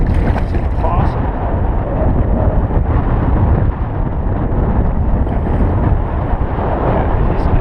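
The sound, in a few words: wind blowing while kayak bass fishing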